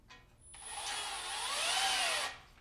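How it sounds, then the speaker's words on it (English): A power tool whirs while chasing out threads in the engine block of a Landcruiser FJ60, one continuous whine of under two seconds that rises, wavers in pitch and then stops, close and alone. "And here I'm just chasing out all the threads in the block."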